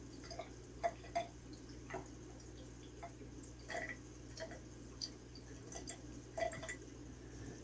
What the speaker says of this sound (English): I'm going to take a turkey baster, every Aquarius best friend, and I'm going to just trickle some water into the top of this this inlet standpipe here.